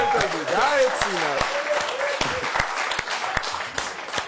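An audience applauds at a televised comedy game show, the clapping running beneath loud, dominant talking from a man on stage.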